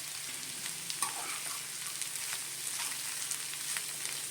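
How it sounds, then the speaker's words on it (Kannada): Coriander leaves and grated coconut being stirred into a hot cooking pan, with a steady soft sizzle and light scraping and clinking of the spoon, close and even, with no talking. "ಸ್ವಲ್ಪ ಕೊತ್ತಂಬರಿ ಸೊಪ್ಪು, ಸ್ವಲ್ಪ ತೆಂಗಿನಕಾಯಿ ತುರಿ, ಇಷ್ಟು ಹಾಕ್ಕೊಂಡು ಮಿಕ್ಸ್ ಮಾಡ್ಕೊಳ್ಳೋಣ."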